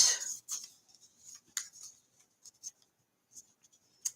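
Scissors cut out a paper Christmas gift tag in a quiet room, a scattered series of short, crisp snips and rustles with silent gaps between them.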